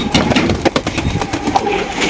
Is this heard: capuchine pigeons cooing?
yes